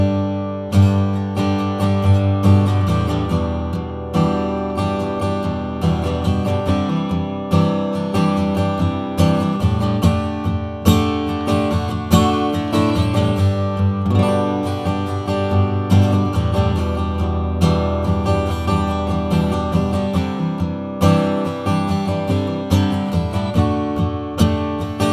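Acoustic guitar picked up by an L.R. Baggs Lyric internal microphone, shaped with EQ and a touch of reverb, playing a steady strummed and picked passage, full and close for the whole stretch with no voices.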